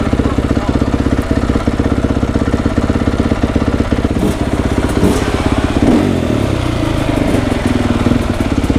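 New supermoto motorcycle engine running close by, a loud steady pulsing putter with a rhythmic beat that changes tone near the end as the throttle shifts.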